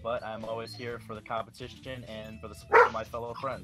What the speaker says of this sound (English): That's my dog's barking in the background.